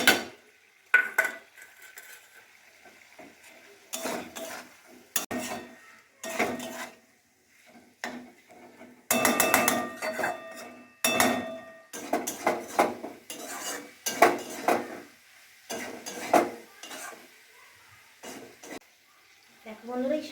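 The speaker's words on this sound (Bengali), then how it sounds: "এই ভেজে রাখা আলুটা এই কষানো মাছের আর পেঁয়াজ রসুনের সাথে দিয়ে দিচ্ছি।" Fried potatoes are stirred into fish, onion and garlic in a metal pan, with loud irregular bursts of clanking and scraping, a faint sizzle underneath and short quiet gaps between stirs.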